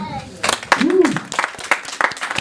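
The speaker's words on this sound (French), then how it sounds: "On va acclamer pour les chants" Church congregation applauding and cheering during a service, with scattered claps and shouts mixed with a rising voice, lively and close, under ongoing talk.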